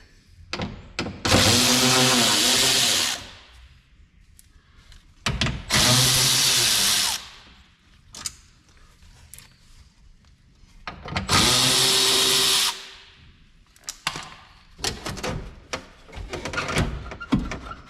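Power drill bores out rivets on the door of an OBS Chevrolet Silverado pickup, three loud sustained whirring bursts of a couple of seconds each, separated by clanks, rattles and handling noise, close to the microphone.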